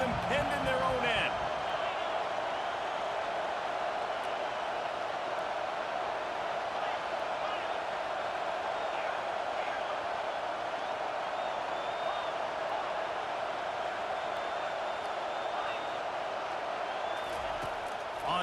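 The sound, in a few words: crowd roaring in College Football 25 video game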